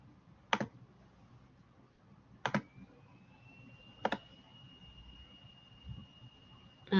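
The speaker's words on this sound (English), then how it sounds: "Apologies, I need to click around a bit." Computer mouse clicks during an online class session: four sharp, isolated clicks spaced a second or two apart, close and fairly faint over quiet room hiss, with a thin steady electronic tone in the background.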